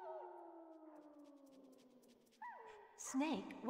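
Dogs in the Metal Gear Solid video game giving short whining yelps and whimpers, a few rising cries near the end over a fading musical tone, with game dialogue nearby.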